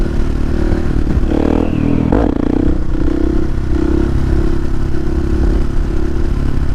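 A Husqvarna 701 motorcycle engine runs steadily while riding off-road on choppy ground, droning loud and close under constant wind rush and rattling clatter.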